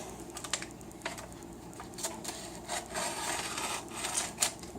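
Scissors cut down through the liner of a wooden soap mold, a run of small crisp snips and rustles up close, fairly quiet over a light background hiss.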